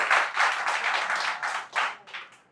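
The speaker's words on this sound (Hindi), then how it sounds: "इनके लिए खुसूसी ताली उठाते हैं।" A group claps together in warm applause for a student at a mobile phone repair training farewell: a dense burst of clapping that rises, dips and tapers off over a couple of seconds, with no talking.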